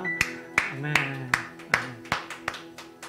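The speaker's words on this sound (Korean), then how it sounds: "하나님께 영광의 박수 올려드리겠습니다" A church congregation of middle and high school students claps after a prayer, giving nine or so distinct loud bursts at an irregular, roughly half-second pace, each with a quick decay, while sustained organ or keyboard tones sound underneath.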